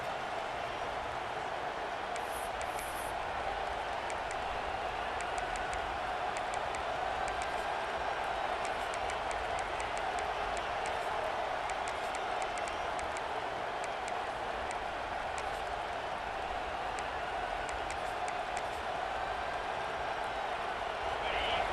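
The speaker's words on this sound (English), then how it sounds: "Here comes this home crowd as the defense tries to get off the field on third down." Home crowd at a college football game between Virginia Tech and NC State roars steadily as the defense tries for a third-down stop, a dense, continuous stadium wash at even loudness throughout.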